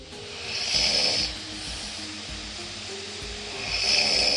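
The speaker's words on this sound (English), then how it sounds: "Here's a night where I snored a lot," Slow, heavy snoring recorded at night, two long rasping breaths separated by a quieter stretch, steady room noise underneath.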